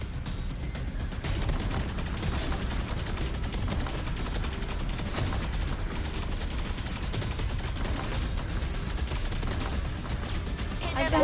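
Dense, continuous gunfire from Valorant fills the whole stretch, loud and close, with sustained rapid bursts and excited voices talking over it.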